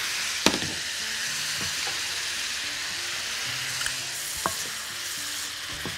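Colored bell peppers sizzle and fry steadily in a pan, with a few sharp stirring clacks and scrapes of a utensil over the continuous hiss.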